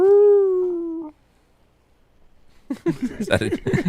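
A single sustained wolf or coyote howl plays as a phone voicemail greeting, a clear tonal wail of about a second, followed by silence and then people talking.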